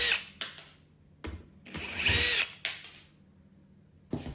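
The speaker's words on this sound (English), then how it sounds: "if you wanna make easy, you can use the impact with a star bit" An impact driver fitted with a star bit drives screws while an interior door is replaced: short buzzing bursts, one longer rattling run in the middle, then brief pulses, close by with no voices.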